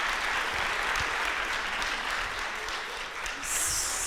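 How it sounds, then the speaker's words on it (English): Audience at an arts panel event applauds warmly, a steady dense patter of clapping that carries on evenly for several seconds, with a brief whoop near the end. "Can we give a big round of applause?"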